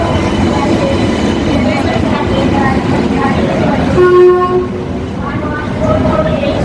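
A train rolls past with a loud, sustained horn blast midway, over steady rumbling rail noise, with people talking nearby.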